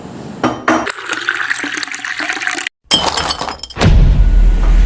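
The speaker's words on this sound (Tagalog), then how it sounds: "makikilagyan naman po ng tubig ang aking baso" Radio drama sound effect of water poured into a drinking glass and spilling onto a table, a running splashing pour broken by a short gap, then clinking and a rougher burst of water.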